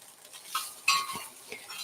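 Ramen noodles stir-fried in a Lodge cast iron wok on an electric stove, with soft scraping and stirring, faint sizzle and a few clinks of a utensil against the metal, close and fairly quiet.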